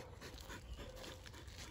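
Dog panting heavily in short, rapid breaths, close and continuous through the brief moment.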